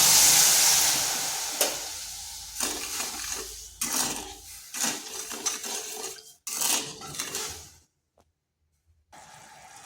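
Sugar and water are stirred in a pan to make syrup, with a utensil clinking and scraping against the metal in uneven strokes that fade into near silence before one more short bit of noise.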